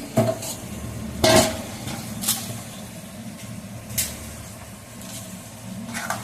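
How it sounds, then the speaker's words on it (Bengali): Fish pieces go into a simmering curry gravy in a pan, with a low bubbling sizzle underneath and several distinct scrapes and clinks of a spoon against the metal pan. "আস্তে আস্তে করে সমস্ত মাছগুলো দিয়ে দিলাম ঝোলের ভিতর।"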